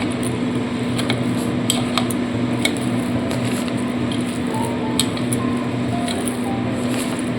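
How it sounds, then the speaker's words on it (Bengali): Chicken pakora batter with gram flour and semolina being mixed by hand, giving a close, continuous wet squishing and squelching with soft irregular slaps. "আর দিয়ে দেবো সুজি আবারও খুব ভালো করে এইভাবে মিশিয়ে নিতে হবে"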